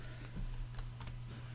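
A few quiet keystrokes on a computer keyboard as an answer is entered, short light clicks over a steady low electrical hum.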